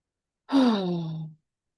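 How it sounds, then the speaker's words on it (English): A single big, deep breath is let out as a close, voiced sigh, lasting under a second and falling in pitch before silence. "Take a big deep breath"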